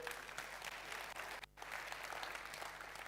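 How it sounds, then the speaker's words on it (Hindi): Steady applause from a large audience at a religious discourse fills the clip, with one brief dip in the middle before the clapping picks up again. "देखो भैया ने ताली बजाई, तुम भी बजाओ।"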